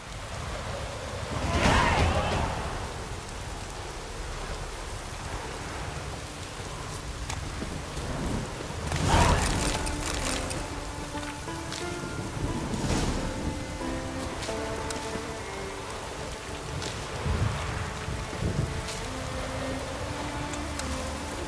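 Steady rain in The Witcher 3: Wild Hunt hisses throughout, with several rumbling swells like distant thunder and faint tonal music running underneath; no voices.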